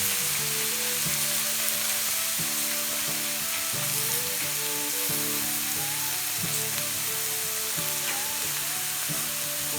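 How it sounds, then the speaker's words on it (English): Vegetables sizzle and steam on a cast iron griddle, a dense, steady frying crackle with soft background music playing underneath. "Get a little bit of steam going with this. Help cook these vegetables along."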